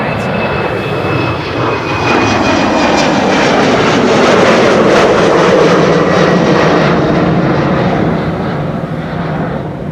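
A jet airliner departing Amsterdam Schiphol Airport roars loudly and continuously, its engine noise swelling and shifting in pitch as it passes close by.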